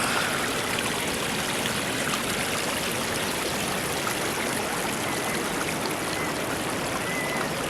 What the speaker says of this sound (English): There's your stream.